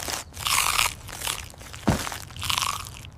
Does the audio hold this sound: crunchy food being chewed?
yes